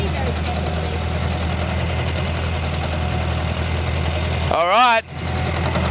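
A ride-on lawn mower engine runs steadily while the machine is driven, a loud continuous drone with a brief spoken phrase and a sharp change in the engine note near the end.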